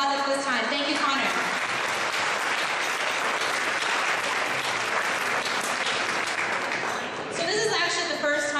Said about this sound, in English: let's give him a big round of applause at this time